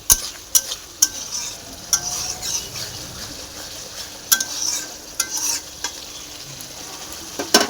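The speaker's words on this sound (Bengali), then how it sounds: "দেখো, চলো এই দেখো মশলাটাকে ভালো করে কষতে হবে।" Spice masala being stirred and fried in a pan, with a steady sizzle under repeated sharp scrapes and clinks of a spoon against the pan. Green and dried chillies are in the mix, and no one speaks.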